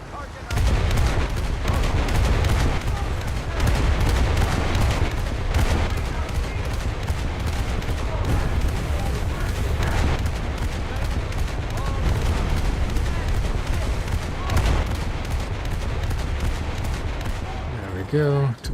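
Naval guns on the Beaufort firing in a naval combat game, a fast regular salvo of loud booming shots repeating throughout, with a voice talking over the barrage.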